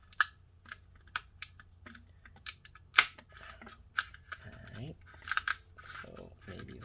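A cheap manual topless can opener works around a can with a series of sharp clicks and ratcheting crunches, irregular and close, with quiet talk in between.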